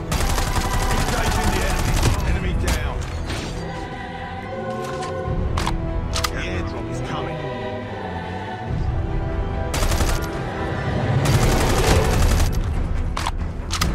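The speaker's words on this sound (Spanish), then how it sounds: "El sonido de disparo es aceptable" Kilo 141 rifle fire in Call of Duty: repeated loud automatic bursts and sharp single shots crackle in the foreground, broken by short gaps and mixed with game effects.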